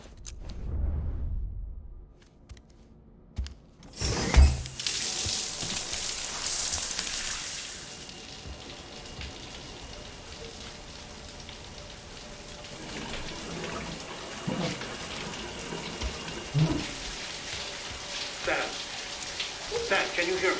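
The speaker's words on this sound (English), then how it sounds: "We can, take a shower." A shower runs in the Death Stranding video game, a steady hiss of falling water beginning after a few seconds and continuing at moderate level, with intermittent louder splashes and brief voices.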